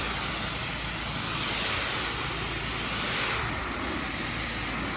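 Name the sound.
pressure washer wand rinsing with fan pattern spray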